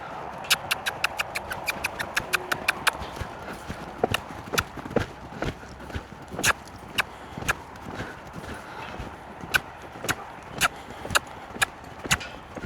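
Horse loping, rapid rhythmic hoofbeats at first, then a slower, uneven series of sharp clip-clop strikes on the ground, close and distinct, continuing throughout.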